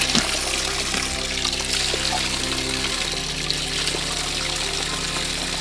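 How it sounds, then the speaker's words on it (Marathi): Pure spring water seeps out through solid rock and trickles steadily, a continuous close splashing with no pauses. "हे पूर्ण खडकातून झिरपून असं पाणी येत आहे"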